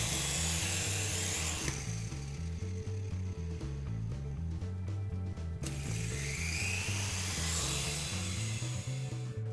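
A toy infrared remote-controlled helicopter flies with a steady, loud motor whine and a pulsing, whirring rotor drone that continues without a break, with no voices.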